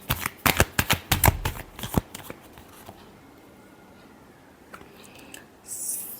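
Tarot cards being shuffled by hand in a quick burst of crisp riffling slaps for about two seconds, then near silence with faint rustles and a brief soft swish at the end.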